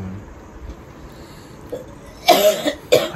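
A sick child coughs in two harsh close bursts near the end, loud and abrupt after a quiet stretch of room tone.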